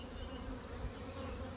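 Honeybees buzz in an opened hive while a swarmed colony is checked for a new queen, a dense steady hum heard up close and fairly quiet.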